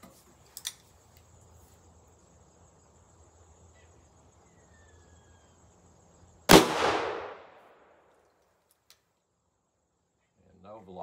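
A single loud .38 Special shot, a Hornady 140-grain XTP load fired from a 3-inch Rossi revolver outdoors, cracks sharply and rings out in a fading echo over a steady chorus of crickets.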